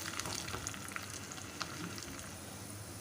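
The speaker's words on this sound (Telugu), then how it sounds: "ఇప్పుడు కరివేపాకు, దంచుకున్న 4 వెల్లుల్లి రెబ్బలు వేసుకొని బాగా కలిపి దూరగా వేయించండి." Curry leaves and four crushed garlic cloves fry in a pan for a bottle gourd and tomato curry tempering, a soft, steady sizzle with light crackles and occasional stirring clicks, fairly quiet and without speech.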